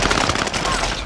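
MP7 firing in a battle royale resurgence video game, a short rapid burst of automatic gunfire with dense, crackling shots, loud and close for about a second, with some voice underneath.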